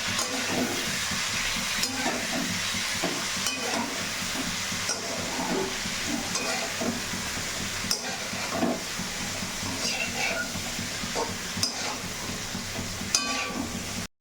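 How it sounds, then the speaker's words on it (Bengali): Malabar spinach seeds fry in hot oil with salt, a steady loud sizzle running throughout while a utensil stirs and scrapes the pan in repeated clacks. "পুঁই মিটুলিগুলোকেও খুব ভালোভাবে বেশ খানিকক্ষণ ধরে নেড়ে চেড়ে কিছুটা নুন দিয়ে দিলাম।"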